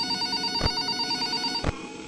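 Phone ringing in the Five Nights at Freddy's fan game Fazbear Origins: a steady electronic ring tone with two sharp clicks about a second apart, fairly loud and close, with no talk.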